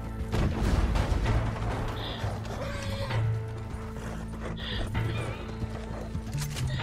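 Horses whinny and hooves clop in the Red Dead video game, mixed with distant booms and a steady low drone, a couple of brief neighs standing out over the busy in-game din.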